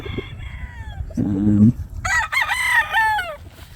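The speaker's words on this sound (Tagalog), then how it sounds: "Yung mga manok." Gamefowl roosters crow and hens cluck close by at a game farm, a deep clucking burst followed by a long, rising-and-falling crow.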